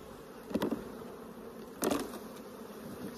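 Honey bees buzzing around an opened beehive with a fractured queen excluder, a faint steady hum with two brief louder swells as bees fly close past.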